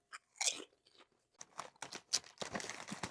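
Roasted cumin lamb skewer flavored potato chips being crunched, several close, crisp bites and chewing crunches in irregular bursts, quiet with no talking.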